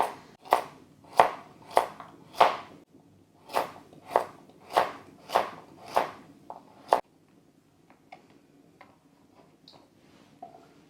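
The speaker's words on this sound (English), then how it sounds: "So I'm going to cut these carrots in little round discs." A knife chops carrots into round discs on a board in about eleven sharp, evenly spaced cuts, loud and close. It then goes quiet apart from faint handling noises.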